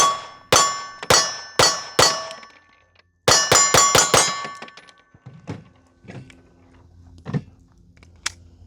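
A Staccato pistol fires in two rapid strings of shots, each one ringing with a sharp clang off steel targets, loud and close. Quieter knocks and ticks follow.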